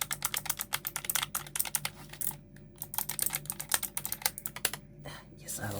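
Fast, crisp clacking comes from a Keychorn K3 V2 mechanical keyboard being typed on up close, with rapid bursts of keystrokes broken by brief pauses.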